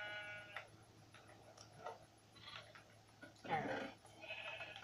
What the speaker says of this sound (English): There's your baby sheepy.